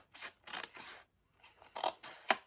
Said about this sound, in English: And then I'm going to cut down this side here as well